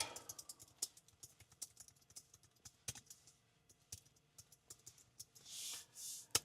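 Rapid, irregular keystrokes on a computer keyboard clatter close and fairly quiet, with a few louder taps and brief rustling bursts near the end, no voices.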